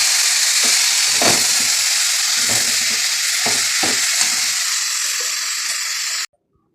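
Greens fry in a pan with a loud, steady sizzle, broken by the clatter of stirring at intervals, then stop abruptly.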